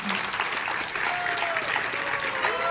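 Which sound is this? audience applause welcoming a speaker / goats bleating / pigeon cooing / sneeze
audience applause welcoming a speaker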